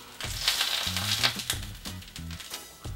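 A fried egg sizzles steadily in a frying pan after being flipped, a bright continuous crackle of hot oil with a few soft scraping or stirring knocks beneath it, close and alone.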